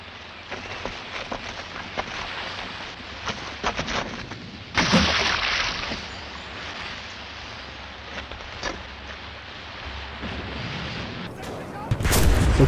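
Gunfire in the video game Enlisted, with repeated sharp shots and bursts, one heavy blast partway through and a loud burst at the end, while someone talks over the action.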